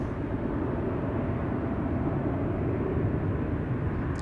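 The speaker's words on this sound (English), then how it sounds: "EasyJet going to Newcastle. A319. 16 years old, first flight December 2008." An EasyJet Airbus A319 airliner at Amsterdam Schiphol Airport in low cloud and poor visibility produces a steady, loud, broadband jet roar that holds evenly throughout without breaks.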